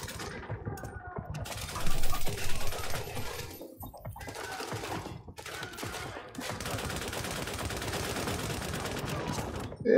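Gunfire from the video game The Division, with rapid bursts and rattling shots in a busy mix of game sounds, moderately loud throughout.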